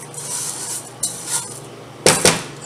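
A spoon stirs rice in a pot for turkey-stock jook. Soft scraping comes first, then a couple of light knocks, and two louder metallic clacks near the end, all close by with no speech.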